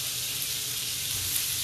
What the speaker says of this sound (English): as you can hear, the chicken is sizzling